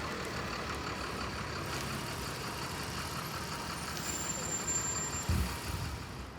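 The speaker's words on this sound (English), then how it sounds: "Here is the bus that we arrived on leaving" Bus in Bristol pulling away from a stop, a steady low engine rumble rising slightly near the end, with a faint high whine over the traffic.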